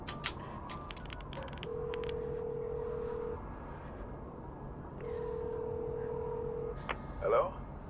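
Inside a phone booth in the video game Beyond: Two Souls, a phone is dialed with quick key tones, then two long ringback tones sound, separated by a pause, over faint background hum.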